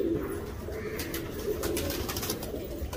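Pigeons coo softly and steadily over a low, busy background murmur, with several birds calling close together.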